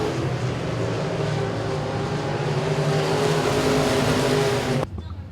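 Limited modified race cars out on the speedway, a loud sustained roar of several engines droning together for about five seconds before cutting off abruptly, leaving quieter background noise.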